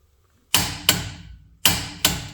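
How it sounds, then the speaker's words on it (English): A torque wrench on a wheel stud of a Sierra or Toyota Tacoma SR5 gives sharp metallic clicks in two pairs, close and crisp, with a short pause between pairs and quiet in between. "now with this torque wrench, what we're listening for is for it to click"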